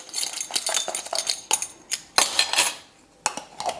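Shaker of seasoning being shaken together for smoked lamb shoulder: a run of close, bright rattling clinks in uneven bursts with brief pauses, no talk.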